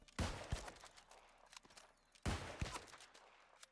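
Two sharp musket shots from a New World character ring out about two seconds apart, each a crisp crack followed by a short rattling tail. They stand alone, with no talk.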